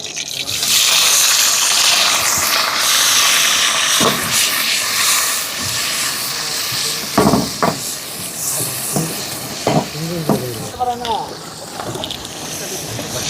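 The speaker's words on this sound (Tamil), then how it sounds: "நல்லா பொறிஞ்சிட்டு இருக்கு" Nagarai dried fish fries in oil on a boat out at sea, giving a loud, steady hiss of sizzling throughout. Occasional clanks and brief voices sit underneath.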